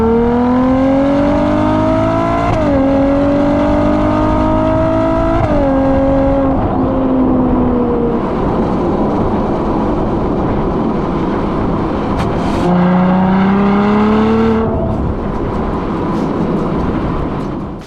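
A Ferrari 812 GTS V12 engine revs hard alone, its pitch climbing through gears with shifts in between, then surging up again near the end.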